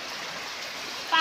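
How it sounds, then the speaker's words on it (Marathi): Rain-swollen stream water rushing steadily, a broad, continuous wash of flow close by that fills the short moment without a break. "पहा कसं वाहतंय पाणी"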